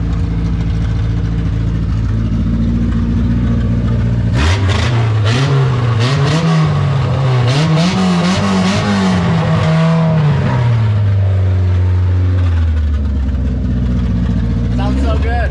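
A Toyota Sprinter Trueno JDM car idles nearby, then its engine revs hard and climbs through the gears as it pulls away, the pitch rising and falling before settling back to a lower drone.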